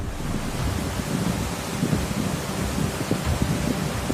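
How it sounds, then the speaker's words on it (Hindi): A swollen mountain stream in Barkot, Uttarakhand, running fast after heavy rain: a dense, continuous roar of rushing water, loud and steady, with no voices. "जहां इस पहाड़ी नाले का पानी तेज रफ्तार से बह रहा है"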